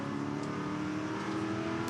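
V8 ute race cars accelerate at Symmons Plains circuit, a steady, distant engine drone with throttle held on, fairly faint and continuous.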